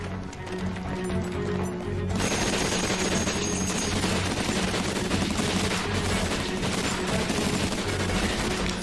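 Gunfire in a Doctor Who episode, heard as a dense, continuous barrage of rapid shots that fills the scene loudly and stays busy throughout.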